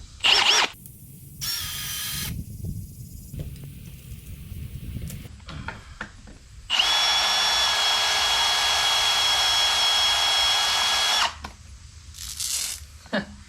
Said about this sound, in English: that Stripmeister absolutely is gonna obliterate this wire